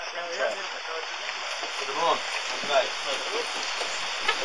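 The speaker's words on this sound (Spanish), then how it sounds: "Pero la lluvia no dejó de caer y fuimos invitados a pasar la noche." Steady rain in Brazil patters on a surface outside a shelter, a continuous hiss with scattered drips, while faint voices murmur underneath.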